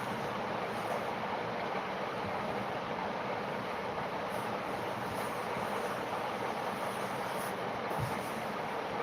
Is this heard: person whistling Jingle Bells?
no